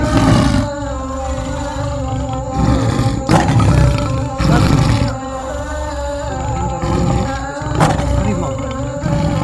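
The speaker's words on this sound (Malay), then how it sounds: "Harimau." A tiger roars in a Minang film scene, a loud, deep, sustained growling roar repeating in heavy surges over several seconds, dominating the soundtrack.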